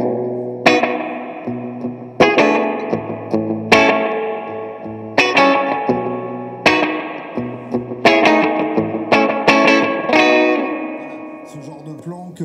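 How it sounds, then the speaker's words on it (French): An electric guitar played through a real spring reverb strikes about nine chords or notes, each attack followed by a long, shimmering, slightly distorted decay that rings out before the next, loud and close. "tu veux une reverb à ressort, tu as des ressorts"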